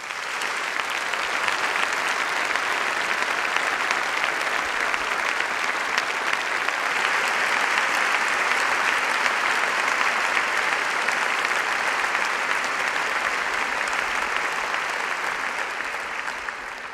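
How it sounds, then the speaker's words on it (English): A graduation audience applauds academic staff at a postgraduate ceremony, sustained loud clapping from a large hall crowd that holds steady for about seventeen seconds before tapering slightly at the very end. "Please, please give them a huge round of applause."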